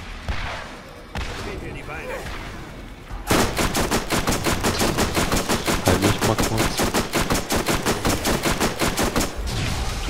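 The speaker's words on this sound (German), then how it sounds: "Ich schieß die ganze Zeit die Tentakel immer ab" Rapid machine-gun fire at tentacles during a boss fight in the video game Borderlands, a loud, fast, evenly spaced stream of shots lasting several seconds after quieter game noise.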